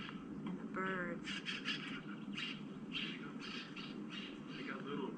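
Birds chirping and calling at Clear Creek Lake in Arizona, short bright tweets and warbles in scattered bursts, fairly faint over quiet outdoor ambience.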